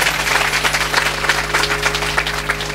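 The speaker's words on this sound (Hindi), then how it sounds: "तो जोरदार तालियां।" Crowd at a Bhagwat Katha religious gathering gives loud, sustained applause, a dense continuous roar of many clapping hands over a steady low hum from the sound system.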